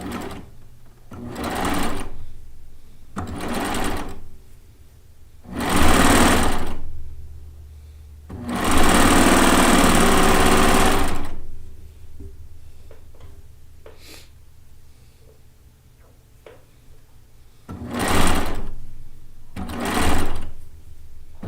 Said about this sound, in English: it does use needles and loopers just like an overlock machine does, which is why it is considered part of the serger family of machines